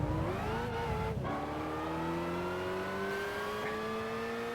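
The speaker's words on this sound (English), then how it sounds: "if it is actually going for the Opel Vectra DTM engine noise" Opel Vectra DTM race car engine in Gran Turismo 5, a loud sustained whine rising in pitch through the gears, with a brief drop at a shift before climbing again, with no talk over it.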